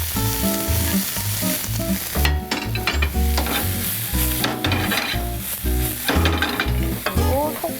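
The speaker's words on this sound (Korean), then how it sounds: "볶아주도록 하겠습니다" Onion, carrot and other ingredients for a spicy webfoot octopus and pork stir-fry sizzle loudly in a hot pan, with continuous close frying hiss and the scrape and clatter of stirring.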